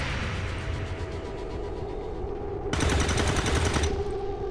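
Overwatch reaction fire in the strategy game XCOM 2: a sudden loud burst of rapid automatic gunfire, sharp and dense, rising over a steady game-background rumble and then cutting off after about a second.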